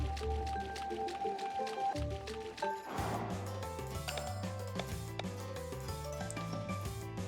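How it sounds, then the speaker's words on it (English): Water burbles and drips in the Chained Echoes video game, a run of watery plinks and squishes layered over melodic game music at a moderate level, with no one talking. "Oh, I see we're in the water now."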